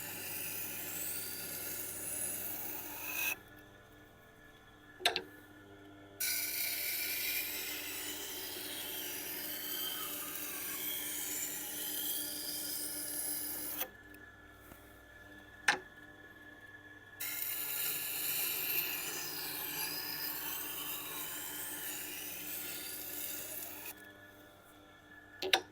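Wusthof kitchen knife being sharpened on a Tormek 1000 grit stone, a soft continuous rasping grind in long passes broken by short pauses and a few sharp ticks as the blade lifts off.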